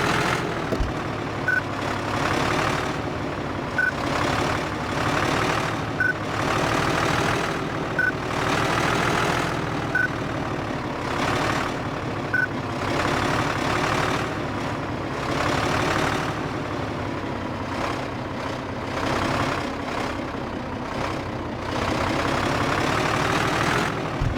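A truck in the game Truck Mechanic drives in gear with a steady low engine drone that rises and falls through gear changes, under faint periodic beeps, with no talking.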